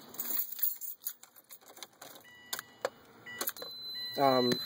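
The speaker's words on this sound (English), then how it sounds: "let me put the keys in the ignition." Car keys jangle and clink near the microphone in a Subaru WRX, with sharp metallic taps as they go into the ignition and a short rising electronic chime at the end.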